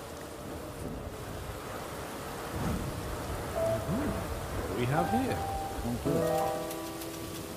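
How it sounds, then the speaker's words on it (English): Steady rain with low rumbling thunder in a horror video game, a constant wash that swells slightly midway, while a person talks over it and tonal game sounds chime near the end. "Maybe they just like the sound of the rain to fall asleep to."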